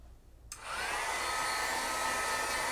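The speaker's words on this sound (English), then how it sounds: "I'm gonna grab my heat gun" A heat gun switches on and blows steadily, a loud, close, broadband whooshing hiss that holds constant after a brief start.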